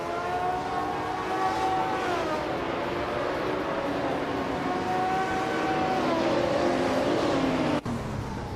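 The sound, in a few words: 1977 Porsche 936 race car driving, from a video game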